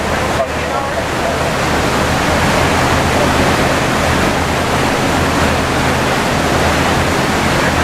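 Water pours steadily from a sewage pipe into a harbour, a continuous loud broadband rush that holds unbroken across the whole stretch with no pauses.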